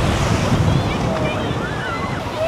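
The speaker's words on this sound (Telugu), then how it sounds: "సూర్యలంక బీచ్ అనమాట ఇది" Ocean surf at Suryalanka Beach on a crowded summer day, a continuous rushing wash of waves with heavy wind buffeting the microphone and faint voices around.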